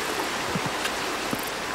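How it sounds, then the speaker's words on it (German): The Frötschbach mountain stream on the Schlern slopes near Alpe di Siusi rushing steadily, a dense, constant hiss of flowing water with a few faint splashes and no voices. "In zahlreichen Bächen fließt es natürlich auch vom Schlern hinab ins Tal, wie zum Beispiel hier der Frötschbach hinter mir"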